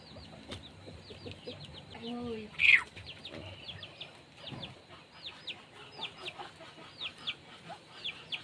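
Hens cluck and chirp in a busy coop that holds sick chickens, with repeated short calls over a steady background of bird chatter and one louder squawk.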